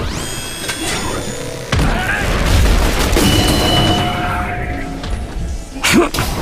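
A hand grenade explodes amid gunfire in the video game The Bureau: XCOM Declassified, a loud boom and crashing blasts layered over dense game sound and music, with brief bursts of shots.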